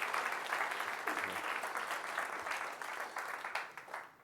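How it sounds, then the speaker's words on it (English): Conference audience at a security event applauds in a steady, moderately distant wash of clapping that fades out toward the end, with no voices over it. "let's give a round of applause for Fiat Chrysler"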